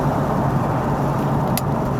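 A 1996 Corvette Grand Sport runs in sixth gear at about 1,000 RPM, its engine a steady low rumble with road noise from inside the car, alone and without talk.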